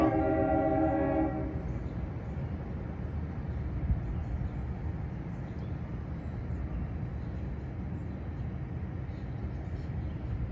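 A train horn blares for about a second, then a long, low rumble of rail cars rolls past steadily at a moderate distance.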